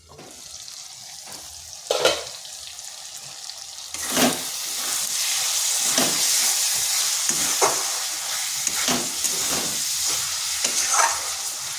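Mushrooms cooking covered in a pan over medium-low heat, a steady close sizzle with repeated sharp clanks and scrapes of stirring or a lid, fairly loud and without speech.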